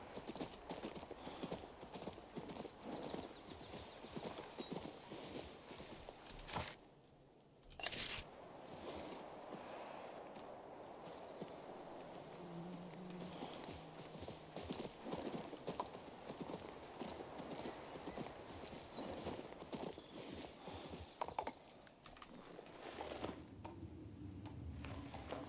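Horse hooves clip-clop steadily through a King's Bounty II game world, a continuous rhythmic trot layered over ambient game music and environmental sound, with a brief lull midway.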